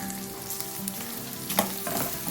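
Four tablespoons of sambar powder hit hot oil in a pan, making a short, close, crackling sizzle with light stirring scrapes and a brief louder burst midway. No talking.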